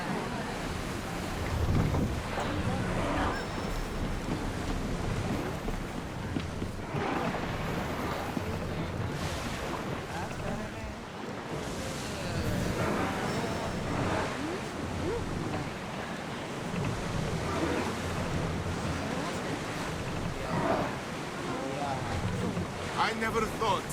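A ship sailing at sea in Assassin's Creed Odyssey: a steady wash of waves and wind rushing against the hull, continuous and broad, with voices speaking intermittently above it.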